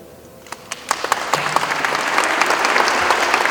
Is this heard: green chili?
no